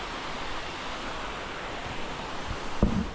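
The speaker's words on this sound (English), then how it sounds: "You see a beautiful waterfall, making a small pool" A waterfall at Phakding on the Everest Base Camp trek pours into a small pool that feeds the Dudh Koshi river, giving a steady, dense rushing roar with no pauses, heard close and alone throughout.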